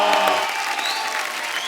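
A studio audience on a comedy talk show bursts into loud applause welcoming a singer, the clapping full and close, easing slightly but continuing throughout the brief moment, with a few shouts at the start.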